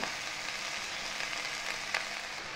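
Vegetables for pasta frying in a pan, a steady close sizzle running evenly throughout with a brief sharper crackle near the end.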